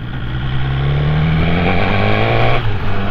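A motorcycle used as a motorcycle taxi drones steadily while being ridden, its engine note rising slightly and then shifting near the end, loud and close, with no talk.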